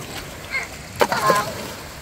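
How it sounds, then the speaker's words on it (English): A rock thrown into water lands with a splash at a park beach, one short bright splatter in the middle of the moment with a smaller slosh after it, fairly close over outdoor background noise. "I'm gonna make a really big splash."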